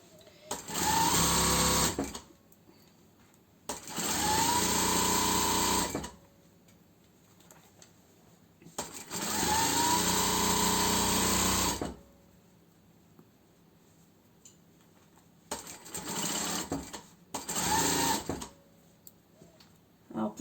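A domestic sewing machine stitches fabric for a beginner's snood, running in several loud, steady bursts of a few seconds each with brief pauses between them, close by and clear.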